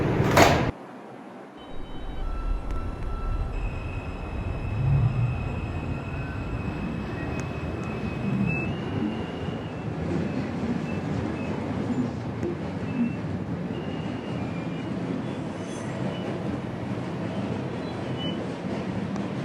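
A New York subway 4 train rolls toward Woodlawn, giving a steady, loud rumble of wheels and car noise after a brief door-like clatter at the start, with no voices over it.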